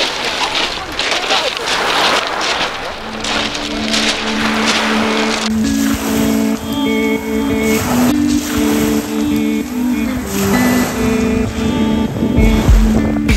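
Motorboat ride on open water off the Isle of Wight, a steady engine hum with tonal drone running throughout amid wind and water wash, close and continuous, with talk mixed in.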